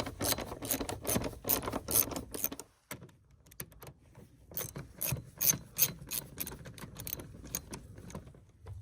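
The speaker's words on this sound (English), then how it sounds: "you can either use a Phillips or you can use 8mm" Screws being backed out with an 8mm socket on a 2015-2020 Chevy Tahoe during an air filter replacement, a run of close, quick ratcheting clicks and rasping turns with a short pause midway.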